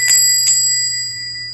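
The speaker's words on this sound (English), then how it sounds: "The bells on the handle of the pub door tinkled" Small bells hung on a pub door handle tinkle in two quick, bright jingles close by, their ringing lingering over a low steady hum.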